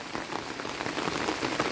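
Rain falls steadily on leafy green plants in Pará, a dense, even patter close by with no voices.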